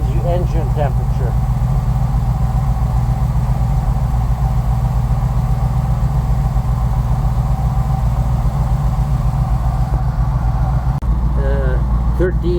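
A steady, low Bombardier engine idle at 800 RPM drones continuously, close and even, with someone talking faintly over it at times.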